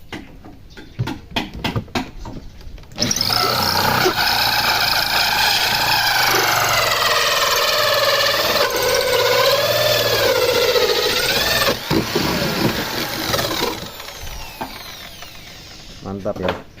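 A cordless drill with a large hole saw grinds steadily through very hard wood for several seconds, its pitch sagging and wavering under load, with brief talk before and after.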